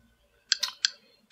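Typing on the touchscreen keyboard of an LG Optimus One Android phone: three crisp, close key-tap clicks in quick succession, with no talk.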